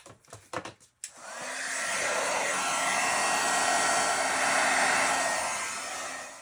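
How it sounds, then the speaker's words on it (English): A heat embossing tool blows hot air steadily over a freshly stamped card, a loud continuous whoosh like a hair dryer that starts after a few brief clicks and bumps and runs unbroken to the end. "let me go ahead and heat emboss this"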